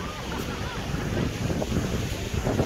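Strong wind at Itapema's Praia Central beach in Santa Catarina, Brazil, buffets the microphone in a steady, rough roar, with gusty surges throughout.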